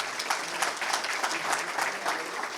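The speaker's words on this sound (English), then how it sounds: "So one more round of applause." An audience at a school district Teacher of the Year program gives a round of applause, with dense, sustained clapping that swells and eases in uneven waves throughout.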